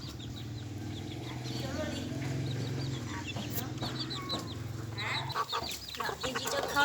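Bantam hens cluck steadily at close range in a farmyard, with soft clucking and chirps running through the clip while someone talks over them.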